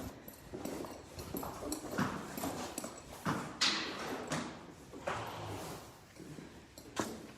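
A quarter horse colt sired by Doc's Hickory clip-clops on its hooves at a steady walk, the hoofbeats fairly close and mixed with shuffling and other sounds, while people talk briefly nearby.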